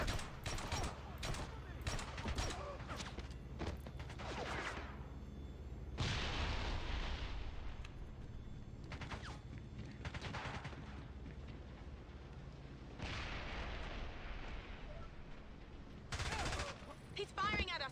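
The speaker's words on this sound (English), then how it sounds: "He's firing at us. Pomrov's firing at us." Enemy gunfire from the boat chase in the game 007 Bloodstone, loud bursts of shooting and booming impacts that come in clusters over a continuous action soundtrack, with voices speaking between the volleys.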